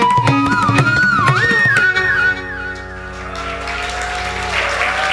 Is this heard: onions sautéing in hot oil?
no